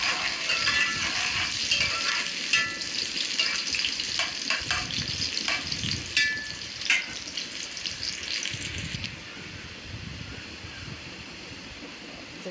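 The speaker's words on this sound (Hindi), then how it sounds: "इसमें मैंने प्याज डाल दी ब्राउन होने के लिए, और इसको अच्छे से मिक्स करेंगे।" Onions browning in hot oil in a pan for a desi aloo chicken curry, giving a steady soft sizzle with occasional stirring clicks and scrapes, fairly close and heard without talk.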